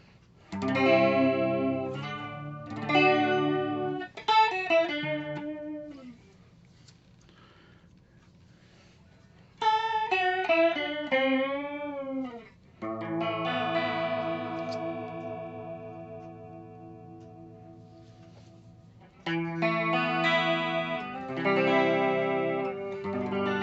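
Electric guitar through a BOSS CE-2 chorus pedal with the depth turned up, playing phrases with short gaps between them, notes wavering in a strong chorus shimmer and flutter, heard alone without talk.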